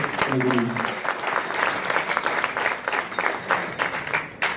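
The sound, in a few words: applause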